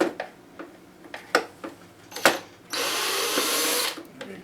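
Screws being taken out of a National RX-5100 cassette deck during servicing: sharp ticks and clicks of a screwdriver on the metal chassis, then a steady, louder burst of whirring like a small power driver, with no talking.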